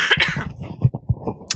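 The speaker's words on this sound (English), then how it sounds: "excuse me, I need to cough." A person coughs several times in a row during a committee meeting, close and fairly loud, in quick harsh bursts.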